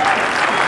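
A dinner audience at the Boston Baseball Writers Dinner breaks into sustained applause, a steady wash of many hands clapping in a large banquet room, loud and continuous.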